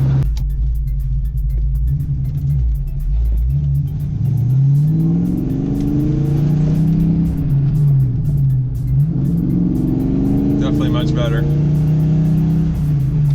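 A manual-transmission car accelerates after a shift into sixth gear, its engine droning steadily with rising and falling pitch sweeps as it pulls, heard from inside the cabin while people talk over it.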